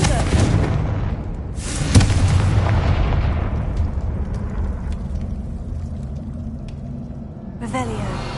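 A Confringo fire spell explosion in Hogwarts Legacy, heard as a loud, booming blast that rumbles and slowly fades, followed later by a second burst, with a voice speaking over it.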